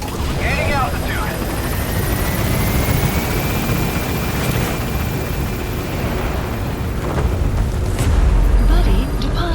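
B-Quad support helicopter from Metal Gear Solid V: The Phantom Pain climbing away with a steady, loud rotor roar, a rising whine running through it, voices talking over the top, and a heavier rumble near the end.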